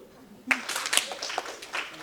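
An audience at a business conference breaks into applause for the CEO of Salons Assured, clapping starting abruptly and continuing as a steady, moderately close patter with scattered louder claps.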